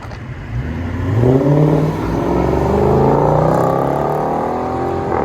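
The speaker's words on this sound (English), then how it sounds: "Chrysler 300 with MAGNAFLOW MAGNAPACKs and a HEMI and 5-inch tips." A Chrysler 300 C with a 5.7L HEMI V8, MagnaFlow Magnapack mufflers and 5-inch tips revs up close and loud, its deep exhaust note climbing in pitch and then holding a steady drone.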